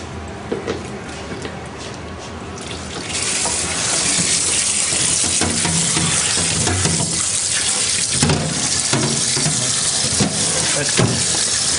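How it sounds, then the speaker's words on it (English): A pot is rinsed under a running kitchen tap, the water starting quieter, then gushing into a loud, steady splashing rush with scattered clanks against the metal. "That's all the impurities stuck to the pot there. See that wash? Just give it a quick rinse off."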